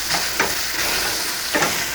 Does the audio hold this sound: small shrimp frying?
yes